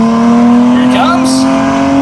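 Nissan GTR in a roll race accelerating hard at a drag strip, a loud sustained engine drone with a rising pitch sweep as it blasts past, close and continuous.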